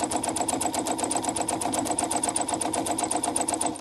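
A sewing machine stitching an appliqué bee on fabric runs in a fast, even, continuous whir with steady rapid needle clatter, close and alone throughout.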